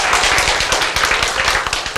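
An audience claps along during a Korean spiritual lecture, a steady dense patter of many hands filling the room, loud and continuous with no speech over it.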